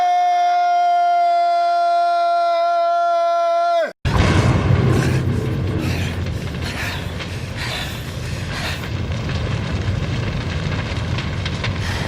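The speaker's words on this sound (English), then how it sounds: "Explosion!" Explosion in the 2003 film Vicious: a sustained tonal hum cuts off abruptly, replaced by a loud, rumbling blast that keeps roaring and crackling with debris for several seconds.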